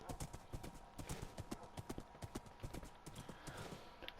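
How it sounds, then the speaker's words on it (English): Steady clip-clop of a horse's hooves while riding in the Minecraft survival video game, quick even rhythm, clear and close, with faint speech over it. "So I'm gonna ride on my horse."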